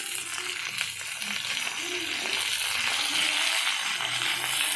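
Sweet potato pieces fry in hot oil in a pan, giving a steady, close sizzle that continues without pause, with faint stirring.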